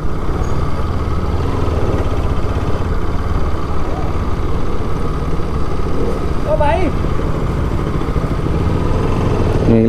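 A Bajaj Pulsar RS200 motorcycle idles with a steady low engine rumble, loud and close throughout, with a brief whistle-like tone and voices faintly under the running engine.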